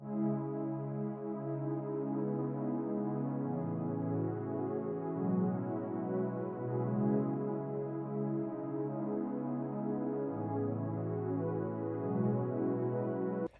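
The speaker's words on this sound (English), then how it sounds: "I first added this pad from Xenology." Warm, sustained synth pad from Xenology in an emotional guitar-beat loop, holding soft layered chords that shift slowly, with a chord change near the end; quiet, smooth and steady with no voices.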